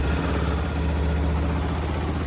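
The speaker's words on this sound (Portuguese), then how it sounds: "deixar a moto ligada aqui só pra aquecer o motor" A motorcycle engine idles steadily to warm up, a low continuous rumble at close range, an even mechanical drone with no revving.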